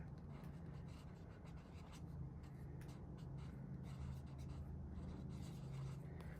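A pen writes the word Stonehenge by hand on paper, a close, faint continuous scratching of strokes against a quiet background.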